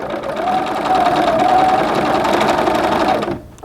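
A sewing machine stitches a seam on small doll pants in one short, loud, continuous run of rapid whirring that stops abruptly near the end.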